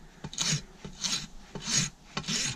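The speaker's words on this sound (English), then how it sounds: "using the fine side of my rasp here, just so you let her get the feel of it." A farrier's rasp files a horse's hoof with its fine side, four rhythmic rasping strokes close by, each a harsh scrape with a soft thump at the start.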